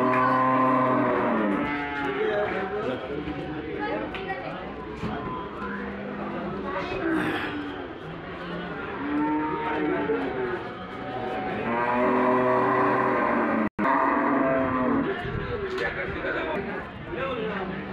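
Buffalo calves moo at a busy Sunday buffalo market in Erragadda, their calls rising repeatedly through steady crowd chatter and people talking nearby.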